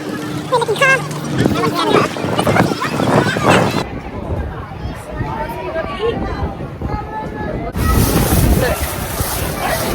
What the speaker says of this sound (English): the wind is blowing hard